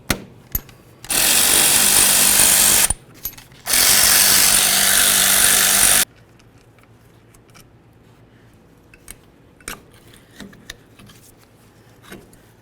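Loud bursts of an impact tool work on the brake caliper slider bolts of a 1994-2004 Chevy S-10 rear brake: two long hammering rattles with a short break between them, then quiet clinks and light handling sounds.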